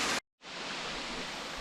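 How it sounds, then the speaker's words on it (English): A small waterfall on Purragulli Creek gives a steady, soft hiss of falling water that cuts out briefly and then resumes evenly, faint and continuous, with no voices over it. "There actually is a waterfall."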